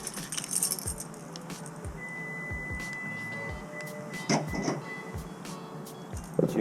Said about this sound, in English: Now we just need to grab our keys